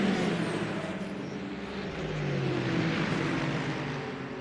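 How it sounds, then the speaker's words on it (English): GT3 race cars at a Le Mans race start roar together in a dense, sustained engine drone, a steady wall of revving from the pack with no pauses. "On to the GT3 race start. Mollema on pole position, Noor right next to him. Mollema has a great start"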